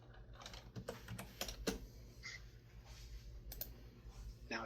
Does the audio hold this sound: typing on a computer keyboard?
yes